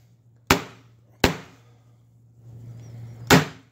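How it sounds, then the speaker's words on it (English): A staple gun driving staples through cloth into a pool table rail, three sharp, close snaps, two in quick succession and a third after a pause, over a low steady hum. "I can just kind of staple about every inch going across the top"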